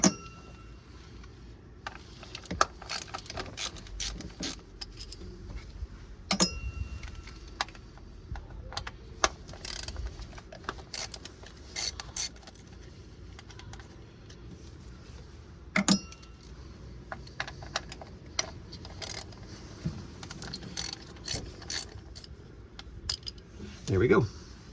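Ratchet clicks and metallic clinks come from loosening spark plugs on a Toyota 4.7L V8 2UZ-FE, as in a Sequoia or Tundra, heard as scattered sharp ticks and rattles close by over a low background.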